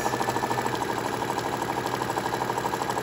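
A sewing machine stitching a fabric bowl cozy runs steadily up close, its needle tapping in a fast, even rhythm over a soft motor whir.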